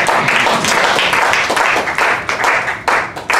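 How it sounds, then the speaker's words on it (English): A round of audience applause after a Ramayana talk, loud dense clapping from a full room that stays strong throughout with brief dips near the end. "Let's give Sushma to your family a round of applause."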